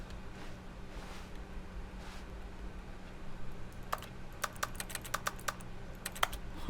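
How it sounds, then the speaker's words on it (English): Computer keyboard typing in the video game The Stanley Parable: a low steady hum at first, then quick bursts of crisp key clicks in irregular clusters through the second half. "Why does it sound like I'm typing on a computer?"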